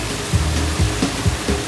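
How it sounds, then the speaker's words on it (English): Water sprays hard onto dishes inside a running dishwasher, a steady broadband hiss with a low rumble and soft periodic surges every few tenths of a second. "As the water is sprayed at the dishes really fast,"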